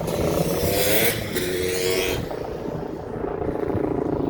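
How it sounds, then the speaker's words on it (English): A loud motorbike roars past close by, then fades into a steady low rumble of a helicopter. "Bike and then the helicopter, so it's a little loud."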